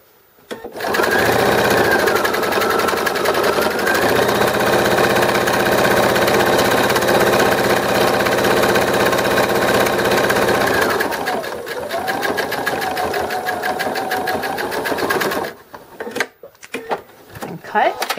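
A sewing machine stitches a fabric drool pad in a long continuous run, loud and close, then slows and stops with a few clicks and handling noises at the end.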